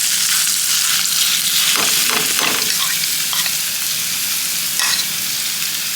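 Meat frying in a pan sends up a steady, loud, close sizzle that crackles without a break, with a few brief scraping stir sounds near the middle and no voices.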